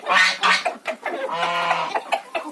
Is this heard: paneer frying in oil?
no